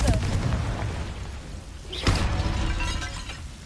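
A Confringo blasting spell in Hogwarts Legacy: a loud crackling blast and shattering burst over a rumbling low roar, with a sharp peak around two seconds and no speech.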